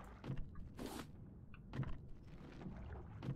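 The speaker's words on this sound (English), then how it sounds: "You built that paddle and you're, you're paddling backwards for Balboa?" Paddle strokes moving a raft in the video game Raft, a few soft splashy swishes spaced irregularly, faint and close with no talking.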